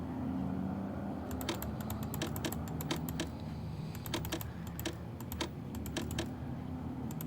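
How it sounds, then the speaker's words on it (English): Keys clatter in irregular bursts of sharp clicks as someone types a message on a computer keyboard while playing a Nancy Drew video game, with a steady low hum running underneath and no talking. "Looks like I should type a message using my own keyboard."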